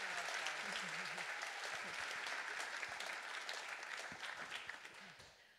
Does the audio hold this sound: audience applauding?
yes